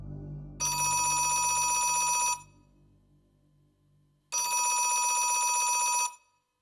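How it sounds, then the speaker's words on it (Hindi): A telephone bell rings loudly in two long bursts with a pause between, over a low background murmur. "किसका फोन है?"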